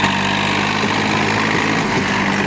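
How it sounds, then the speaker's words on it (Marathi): A tractor engine drones steadily at a close, even level throughout, with a low rumbling throb and no pauses or speech. "भाऊ आपला तर ट्रॅक्टर मारतोय बघा"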